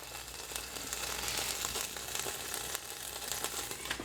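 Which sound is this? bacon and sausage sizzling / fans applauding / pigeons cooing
bacon and sausage sizzling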